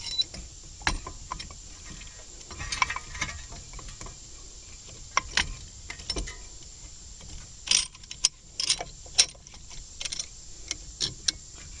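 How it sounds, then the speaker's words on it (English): A C-clamp is tightened against a Ford Taurus front brake caliper, compressing the piston with an old pad in place: faint, irregular metallic clicks and creaks from the screw turning, close by with quiet pauses between turns. "taking my C-clamp on the back of the caliper and tightening it down"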